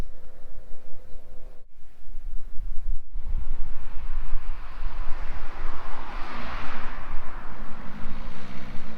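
Wind from cycling into a headwind along the Loire blusters across the microphone in steady gusts, with two brief dropouts and a surge of rushing noise later on.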